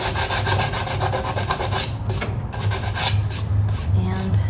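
Heavy-grit sandpaper rubs across a steam-bent wooden iPad stand in a short, steady run, a continuous close rasping with slight pauses and shifts in stroke, no talking.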